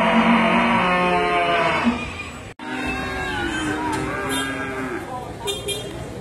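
Cattle moo at a livestock market: a loud, long, close bellow, then further lowing cows among crowd murmur and market noise.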